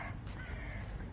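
A crow caws twice in quick succession, fairly near and clear, over a low steady background rumble.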